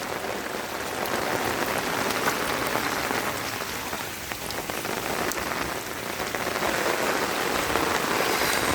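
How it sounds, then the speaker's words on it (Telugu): Heavy rain pours onto a village street in Guntla, Kadapa, making a dense, steady roar of drops on the ground that stays loud and unbroken for the whole stretch, with no voices. "చూడు ఎంత పెద్ద పెద్ద వర్షము"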